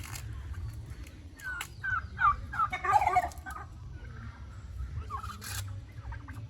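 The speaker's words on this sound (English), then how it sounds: "There he is, the new rooster right there." A rooster and other fowl in a farmyard give a few quiet, throaty gobbling calls in a brief cluster. Low background rumble sits under the calls.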